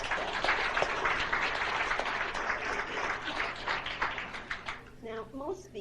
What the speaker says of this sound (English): I would like you to recognize Shirley and Lawrence with your applause